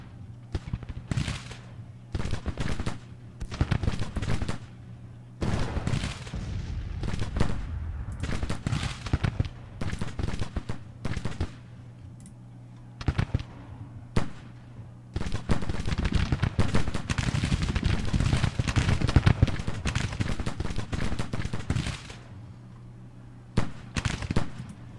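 Civil War infantry in a tactical battle game loose long-range rifle fire, sharp crackling volleys in irregular bursts and dense stretches, with louder clusters in the second half and brief quiet gaps.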